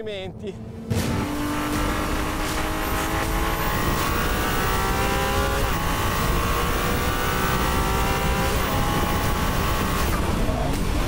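The 120-degree hybrid V6 of a 2022 Ferrari 296 GTB plug-in hybrid revs up and pulls steadily while driving, a loud, continuous engine note climbing through the gears, with someone speaking over it.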